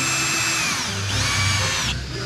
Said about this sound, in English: So you always get a bit nervous drilling a hole in the side of the boat at the bottom.